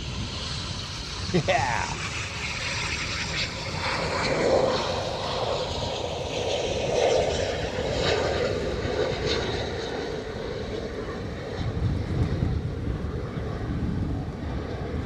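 RAF Eurofighter Typhoon jets of No. 3 Squadron returning to RAF Coningsby make a sustained, moderately distant engine rumble and whine with wind buffeting the microphone, while a brief voice is heard.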